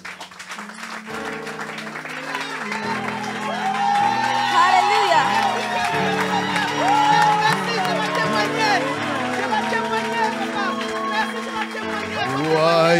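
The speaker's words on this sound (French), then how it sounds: "Quelqu'un acclame." A church audience cheers and applauds during a healing service, whoops and shouts rising over steady clapping, with excited voices calling out across the room.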